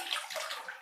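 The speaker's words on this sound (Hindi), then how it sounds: "तो इसमें गर्म पानी आना चालू हो गया" Hot water from a household gas geyser runs in a steady, soft hiss of flowing water, faint and continuous, with no voices.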